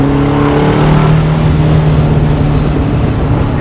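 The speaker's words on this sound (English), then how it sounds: "It is one of the coolest sounds in the world, the race gates blow" A twin-turbo 1969 Camaro pro touring build making over 1500 hp, its race wastegates blowing off in a loud, close, rushing roar with a whistling hiss layered over the engine.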